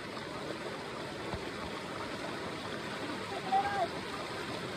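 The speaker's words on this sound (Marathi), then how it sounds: "तिकडे पाणी बघा आता फोर्सने जात आहे." Steady broadband rush of a fast-rising stream fills the whole clip, a constant wash with a faint brief splash near the end.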